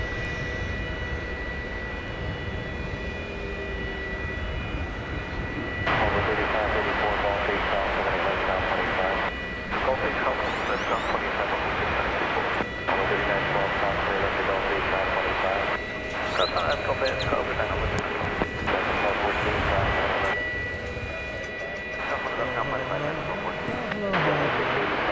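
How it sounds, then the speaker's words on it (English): An American Airlines jet airliner on a flight to Las Vegas at DFW Airport gives a continuous engine roar with a steady high whine, loud and sustained, and brief breaks and bumps in the sound. "This is American Flight 777 going to Las Vegas."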